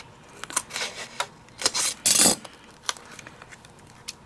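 Paper being cut with scissors for a handmade card, a few short close snips and rustles spaced unevenly, with one louder crisp cut near the middle and no talking.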